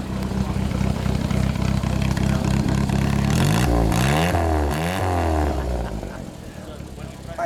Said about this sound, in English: Need a little exhaust note.